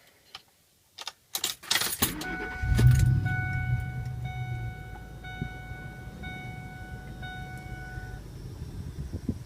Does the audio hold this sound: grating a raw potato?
no